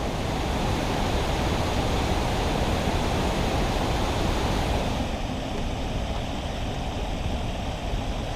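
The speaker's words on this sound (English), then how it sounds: "Kakabeka Falls" Kakabeka Falls roars as a dense, constant rush of falling water, loud and even throughout, with no voices over it.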